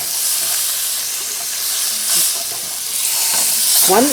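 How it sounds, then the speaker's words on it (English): A pot roast sears in a cast iron pan with a bright, hissing sizzle that swells and fades steadily, close and loud, a brief voice near the end. "But you just want to sear all the parts that are red."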